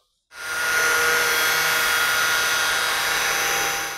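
An electric grinder fitted with a Scotch-Brite Clean and Strip XT Pro disc starts abruptly and whines steadily as it strips rust from metal, a loud, close, continuous hiss with no talking.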